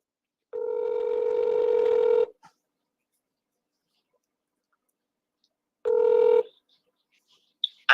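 A telephone ringback tone on a phone call, one long steady electronic tone of nearly two seconds, a pause of silence, then a second shorter tone, clear and close, followed by faint clicks.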